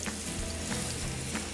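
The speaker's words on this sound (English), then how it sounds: "Get your pan hot with a little bit of canola oil. You wanna hear that sizzle." Turkey patties sizzle steadily in hot canola oil in a pan, a dense continuous crackle with faint periodic stirring sounds and no voices.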